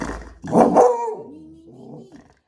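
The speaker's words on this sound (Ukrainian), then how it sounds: "Вікно, вікно не можна гавкати" A dog barks indoors toward a window on a ground floor, giving a loud burst of barks followed by softer whining or growling that fades out.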